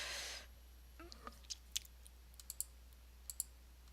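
Faint, crisp computer mouse clicks, about ten single taps in an uneven rhythm, quiet and alone after a short burst of noise at the start.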